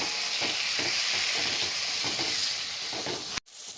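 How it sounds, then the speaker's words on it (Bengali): Mutton spice masala frying in a pan, loosened with mutton cooking broth: loud, continuous close sizzling with rhythmic stirring scrapes, then an abrupt drop near the end. No one speaks. "অল্প অল্প করে মটন সেদ্ধ করার ঝোলটাকে দিয়ে দিয়ে মশলাটা বেশ ভালো করে কষিয়ে নিতে হবে।"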